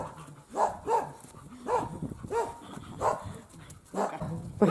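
A dog barks outdoors in a village, a series of about seven fairly close barks at irregular intervals.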